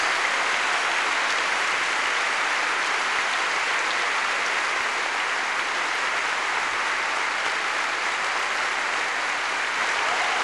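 A church congregation at a Baptist cell-group congress applauds in a dense, sustained wash of clapping that holds at steady loudness throughout.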